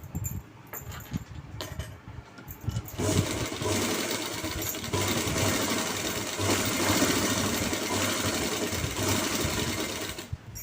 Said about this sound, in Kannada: ಈಗ ಇದಕ್ಕೂ ಎಜ್ ಸ್ಟಿಚ್ ಹಾಕೊಳ್ಳಿ ಗೈಸ್